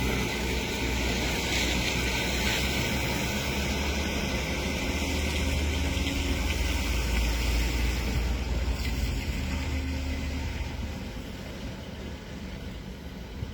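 A dump truck engine idles close by, a steady loud low rumble that continues without break and eases slightly near the end, with no talk.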